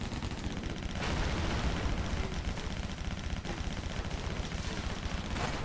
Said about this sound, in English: Oh, golden pistols.